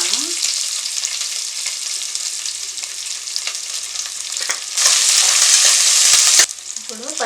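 Onion pieces sizzle in hot oil with whole garam masala for coconut rice, a steady close frying hiss with stirring scrapes that swells louder for a couple of seconds near the end.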